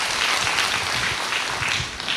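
Studio audience applause on a Korean TV amateur singing contest broadcast, a steady dense wash of many hands clapping that fills the short stretch with little variation.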